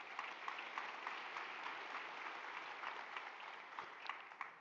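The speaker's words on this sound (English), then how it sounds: "I think that deserves a round of applause." A conference audience at the South Africa Investment Conference claps in a steady, even round of applause that sounds somewhat distant and lasts the whole stretch.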